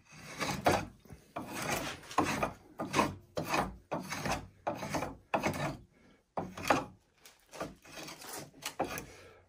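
A Wood River adjustable spokeshave shaves wood in a rapid run of rasping strokes, each a short scraping burst with brief pauses between, close and fairly loud, with no talking.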